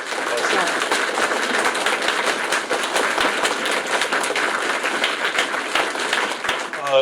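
An audience at a recorded technology community event applauds steadily for several seconds, a dense wash of many hands clapping at moderate loudness, with a voice briefly heard at the end.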